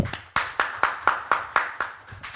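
One person claps about ten times at a steady, fairly quick pace, each clap sharp and close, with no voices in between.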